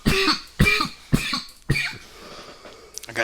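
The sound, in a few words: coughing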